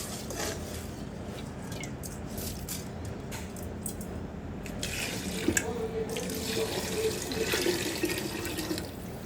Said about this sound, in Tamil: இப்போ 2 டம்ளர் அரிசிக்கு 4 டம் அரிசி தண்ணி நம்ம இது கூட ஆட் பண்ணிக்கிறோம்.